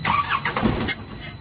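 An Isuzu Elf truck with a 4HF1 diesel engine, unrun for over a year, cranks and catches, giving a loud, close, steady rumbling churn with rhythmic pulses throughout.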